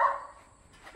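A dog barks twice, one short sharp bark at the start and another at the very end, separated by near silence.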